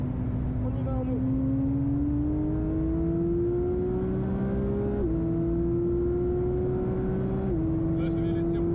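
A Porsche GT3 992.1 accelerates hard around the Spa circuit, its engine note climbing steadily through the gears with brief dips at each shift; the engine drone is loud and close, with a voice speaking at times over it.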